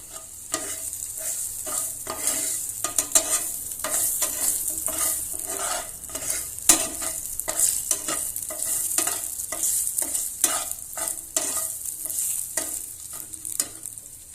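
Ginger and garlic fry in hot oil while being stirred: a steady, close sizzle runs throughout, broken by frequent rhythmic scrapes of the utensil against the pan, with no talking.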